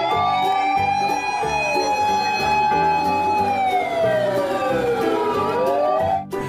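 A toy fire truck's loud electronic siren wails continuously, its pitch sweeping up and down in overlapping tones, with no voices.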